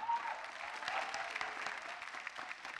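Steady applause from a stand-up comedy audience, a continuous dense patter of clapping at moderate volume.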